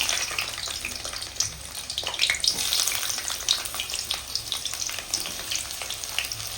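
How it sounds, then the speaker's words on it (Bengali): Onions sizzle and fry steadily in hot mustard oil in a home kitchen, a close, continuous crackle with the light scrape of stirring now and then and no voices. "পেঁয়াজটা খুব লাল করে ভেজে নেব।"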